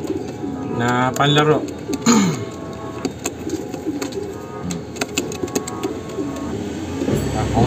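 A pigeon coos a few times, close by and soft, in a busy setting with rumbling background noise. Someone speaks in Filipino briefly.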